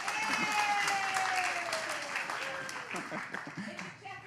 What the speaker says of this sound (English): Clap wildly.